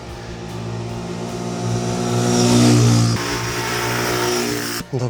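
A QJMotor or Benelli motorcycle rides past during an outdoor test recording, its engine note swelling as it approaches, peaking loudly near the middle, then fading, with a brief clunk at the end.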